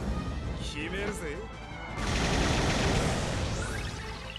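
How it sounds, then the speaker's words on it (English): Dive bomb attack effect in Dissidia Final Fantasy Opera Omnia, a sweeping whoosh followed by a loud crashing barrage of rapid impacts, with a player talking over it. "there is honestly no good reason not to use another dive bomb"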